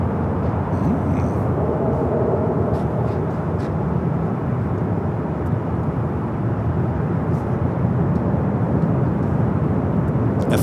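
An American Airlines Boeing 737-800 jet at Los Angeles International Airport, a steady, loud broadband roar of engines and rushing air holding constant for the whole stretch, with faint scattered higher noises above it.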